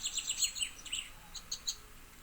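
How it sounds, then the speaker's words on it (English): Outdoor birds on a sunny day give quick, faint chirps and tweets in short clustered runs, with quiet gaps between them. "it's a nice sunny day and the birds are chirping"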